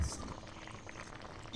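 Fish curry with ridge gourd and potato simmering in a pot, a steady soft bubbling and boiling hiss, close and continuous.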